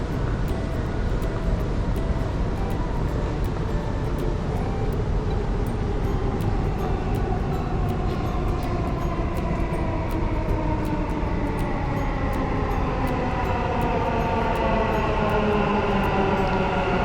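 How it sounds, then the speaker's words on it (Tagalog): A Dubai Metro train pulls into the station with a steady, loud rumble and rising, sliding wheel and motor tones, building over about seventeen seconds with no talking. "So after every 5 minutes dumarating yung metro"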